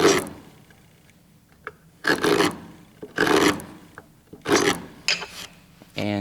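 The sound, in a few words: wood chisel scraping across wood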